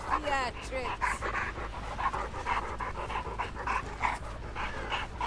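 Dogs pant rapidly and steadily in the game Dead by Daylight, a close, continuous breathy rhythm with faint whimpers at the start, fairly quiet.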